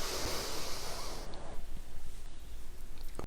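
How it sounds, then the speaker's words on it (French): A long, steady breath drawn in through the nose during a relaxation exercise, heard as a close, airy hiss that fades out partway and leaves quieter breathy noise behind. "Inspirez par le nez en levant la jambe."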